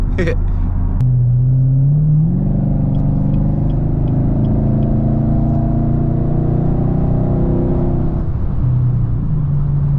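A Chevrolet Camaro 2SS engine revs in track mode, a loud deep roar that climbs in pitch, holds a steady drone, then eases back, with a sharp click at the start and people talking in the background.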